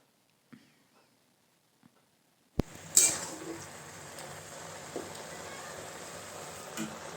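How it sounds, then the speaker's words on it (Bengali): Chickpea and spinach curry with lentil dumplings being stirred in a pan: after a quiet start, a soft, steady sizzle and faint scraping begin about a third of the way in, with a brief clatter near the start and no talking. "এইভাবে ভালো মতো নেড়ে দিতে হবে"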